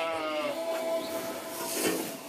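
Ewes bleating on a French sheep farm: several overlapping, wavering bleats from a nearby flock, steady and moderately loud, with no voices.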